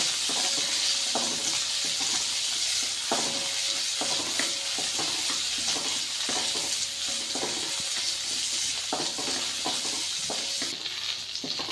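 Onions sizzle and fry steadily in hot coconut oil in a pan, with repeated scraping stirs of a spoon cutting through the constant crackle.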